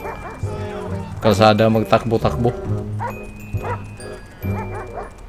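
A dog in the video game Grand Theft Auto V barks and yips several times in quick succession, mid-distance, while a person talks over the sounds.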